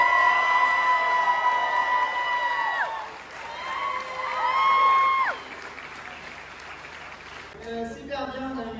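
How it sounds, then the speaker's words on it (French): Audience applause and cheers at a podium ceremony for a New Caledonian championship pro final, steady crowd noise under a long held announcer-like tone, with whoops and shouts rising near the end. "merci de l'applaudir très très fort, Jérémy Slarette."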